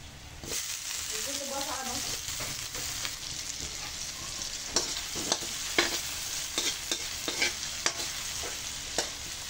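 Garlic or onion sautéing in a hot pan for adobo gives a steady sizzle broken by sharp scraping and clacking stirring strokes, close and fairly loud, with a brief snatch of singing early on.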